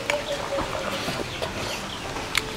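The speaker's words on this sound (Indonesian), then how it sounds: "Ayam pulang." Chickens cluck softly in short, scattered calls as they wander home at a family house, close by and moderately loud over a low background hum.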